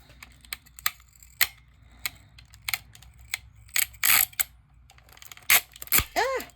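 A piece of tape is pulled and torn during a resin craft project, heard as a series of sharp, crackling rips and snaps in irregular bursts, loudest and densest toward the end.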